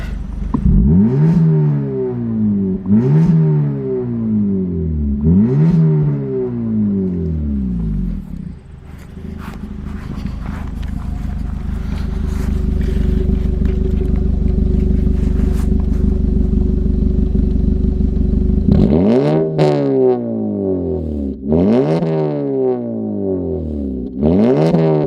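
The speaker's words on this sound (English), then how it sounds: "let's rev it up a little bit" A 2019 Acura ILX A-Spec with a custom exhaust revs in three quick, loud blips. The engine then holds a steady high drone before three more sharp revs rise and fall, with no one talking.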